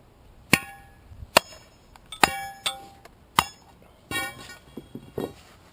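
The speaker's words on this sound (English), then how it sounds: "you just have to tap it a couple times and it'll break off" A hammer taps a concrete core left by a core drill hole saw in a concrete curb, working it loose. Several sharp, ringing metallic knocks are irregularly spaced, with lighter clinks and scrapes between them.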